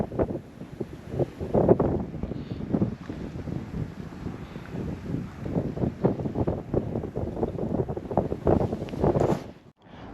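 Strong wind buffets the microphone on frozen Chemong Lake during ice fishing, a loud continuous gusting roar with pulsing surges, briefly dropping away near the end.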